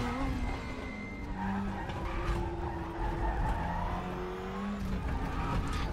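A 2020 Audi DTM race car on the Aragon circuit in the RaceRoom racing game, its throaty engine droning steadily with shifting pitch while the tires squeal and skid.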